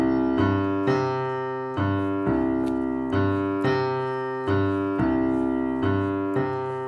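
A piano left hand plays a Latin montuno tumbao bass line, a repeating syncopated pattern of low notes and chords struck in a steady rhythmic loop, clear and close with no voice.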